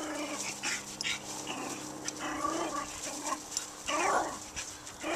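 A dog named Jackson plays with a brick outdoors, giving off soft whimpers and yips over several seconds, with scuffling noise and brief bursts of louder vocalizing near the end.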